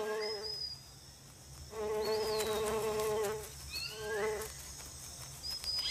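Insects, bees among them, buzz steadily in a tropical rainforest during the rainy flowering season, with droning bursts swelling and fading alongside thin chirping calls over a constant background hum.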